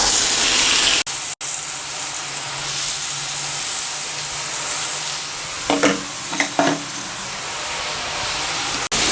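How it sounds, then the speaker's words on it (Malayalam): Chicken pieces hit a hot pan with a little oil, making a loud, continuous close sizzle and hiss that runs throughout. A brief cut comes near the start, and a few clattering knocks sound past the midpoint. "നമുക്കിതാ ചിക്കൻ ഇട്ട് കൊടുക്കാം"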